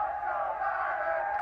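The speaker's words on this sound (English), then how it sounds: "as you can hear the chants from the crowd" A large crowd chants "let's go, Brandon" in unison, a dense, sustained roar of voices heard from some distance without distinct words.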